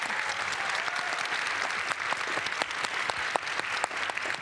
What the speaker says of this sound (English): if we can give a round of applause to our panelists here tonight as well